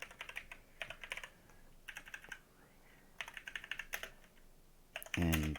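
Keys clack on a computer keyboard in quick bursts with short pauses while someone enters a temperature prompt in a program, close and fairly quiet.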